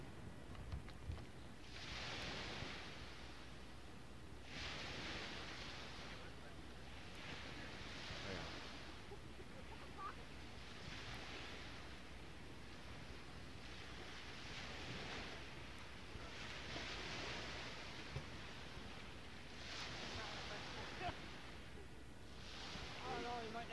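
Rushing water surges in repeated washes over a low rumble, a boat's wake churning nearby on a lake in Lakeport, Michigan, with faint voices and wind.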